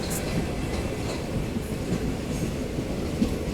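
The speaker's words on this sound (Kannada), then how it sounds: "ಗೂಡ್ಸ್ ನಮಗೆ ಕ್ರಾಸ್ ಆಯಿತು ಫಸ್ಟ್." A goods train crosses near Naganahalli, its steady heavy rumble and rhythmic wheel clatter close and loud, with faint squeals above and no voices.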